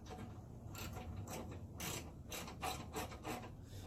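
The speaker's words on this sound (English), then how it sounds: "this is where the swivel wrench comes handy" A swivel wrench ratchets on a bolt fastening the bumper grille of a 2017 L5P Duramax 2500 truck, giving repeated quiet clicking and rubbing strokes close by with no talk.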